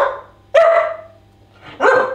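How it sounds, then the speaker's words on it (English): A dog barks on command during training, two loud, close barks separated by a pause, the first trailing into a short whine. "So now you can see if I say speak, he'll bark."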